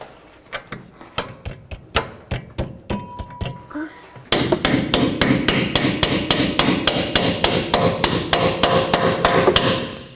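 A hammer drives a greased bolt into the steering knuckle of a 2005-2010 Pontiac G6 rear suspension: sharp metallic blows in a steady rhythm, sparse at first, then faster and louder, close up.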